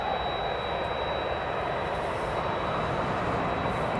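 A jet aircraft taxis at East Midlands Airport, a steady broad engine rumble and whine holding constant throughout, with no voices over it.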